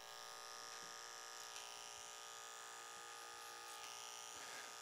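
Detachable blade hair clipper buzzes steadily and faintly through a men's haircut, a constant electric drone with small shifts as it moves over the hair.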